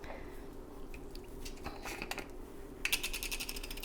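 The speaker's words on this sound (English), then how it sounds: "grind in a little pepper" A pepper mill grinds pepper into a chicken's cavity, giving a short burst of close, rapid ratcheting clicks near the end after quieter handling sounds.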